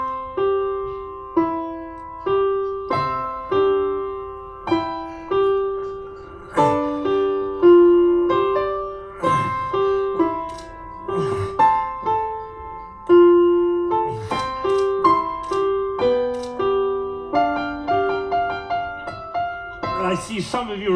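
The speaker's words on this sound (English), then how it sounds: "I want to remind you of what a 7-year-old child sounds like when he plays the piano." Piano played by a 7-year-old child: simple halting notes and chords with uneven pauses and stumbles, played up close with no voices.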